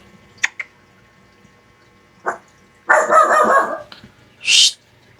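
A dog gives a few sharp, separated barks, then a longer burst of barking and a final high yelp, fairly close in an otherwise quiet night setting.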